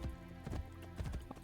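Horse hooves clip-clop in the Assassin's Creed video game, a steady run of close, distinct hoof strikes with a faint whinny near the end, under game music.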